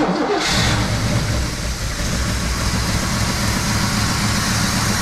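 An old Oldsmobile car engine catches with choke closed and settles into a loud, steady, rumbling run, heard close up without a pause.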